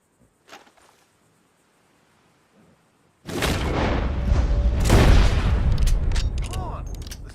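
Gunfire in the Western video game Red Dead Redemption 2, starting after a few seconds of near quiet, then a loud sustained burst of shooting and booming that carries through the rest, with brief faint voices.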